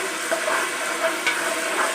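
Ginger garlic paste sautéing in a hot pan for a vegetable meal gives a steady, close hiss and sizzle with faint stirring scrapes, continuous for two seconds and free of talk.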